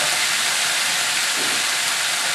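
Gochujang-marinated pork sizzling steadily in a hot pan for wonton lettuce wraps, a continuous close, bright hiss with no pauses and no voices.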